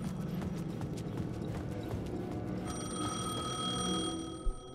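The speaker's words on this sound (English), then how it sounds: "The payphone was ringing." Payphone ringing in Alan Wake 2, a steady electronic ring starting partway through over footsteps and game ambience with a soft clip-clop rhythm, ending with a small thud.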